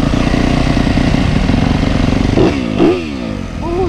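A brand new Yamaha YZ250F dirt bike engine runs loud and close, giving a rapid clattering idle that then rises into several quick revving blips.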